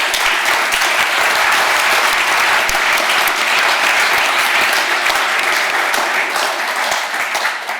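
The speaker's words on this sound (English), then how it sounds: "If they can give them a round of applause" An audience claps steadily for the speakers at a Barnardo's event on young people, social media and mental health, a loud, dense round of applause filling the room for the full stretch and tapering slightly at the end.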